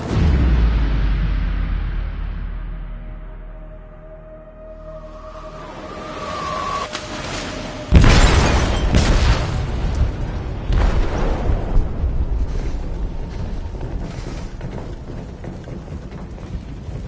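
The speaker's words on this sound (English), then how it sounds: "They detonated an explosive in the hold." A heavy explosion goes off inside a ship's hold, a sudden loud blast at about eight seconds followed by long rumbling, crackling debris and roaring wash, after a lower rumble and a brief whine beforehand.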